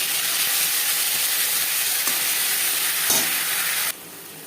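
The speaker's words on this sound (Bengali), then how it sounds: "পাঁচফোড়ন ভেজে নেওয়ার পর দিয়ে দেবো আদা বাটা কাঁচা লঙ্কা বাটা" Panch phoron frying in oil in a kadai, then ginger and green chili paste added; a steady, loud broadband sizzle runs throughout with a couple of faint clicks, dropping sharply quieter near the end.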